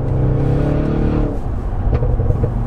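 Deep, loud engine rumble from the exhaust of a 720 bhp stage 2 tuned Audi RS6, steady at first, then breaking into a rougher burbling revving.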